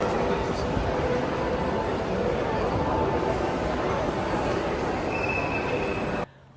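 The monorail to Sentosa Island in Singapore makes a steady, loud rumble of wheels with a faint squeal, continuous until it cuts off abruptly near the end.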